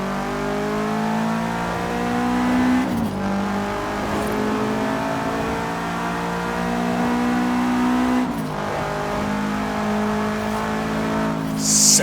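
A Subaru Impreza WRX STI engine revs hard through a tunnel in Forza Horizon 3, a loud echoing drone that climbs through the gears with two clear shift breaks.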